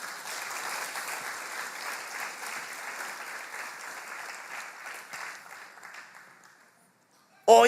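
A church congregation claps continuously for several seconds, dense and steady, then fades toward silence before a sudden loud burst at the end.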